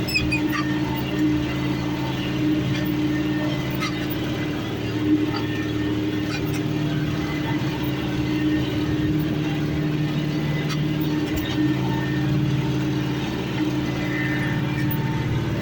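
A 40-year-old tractor engine idles in a continuous low, rumbling drone, loud and steady throughout, with faint rattles on top.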